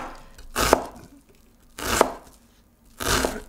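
A knife chops onions on a cutting board in three distinct strokes spaced about a second apart, each a crisp, close thunk with a short crunch, separated by near silence.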